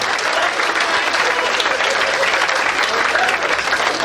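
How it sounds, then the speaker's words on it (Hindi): Dense, steady applause from a seated audience at a spiritual discourse, a continuous wash of many hands clapping at even loudness throughout, with no voice on top. "बजाओ एक बार फिर से तालियां।"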